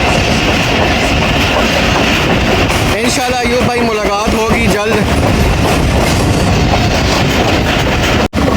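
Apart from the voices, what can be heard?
Rahman Baba Express train running on rails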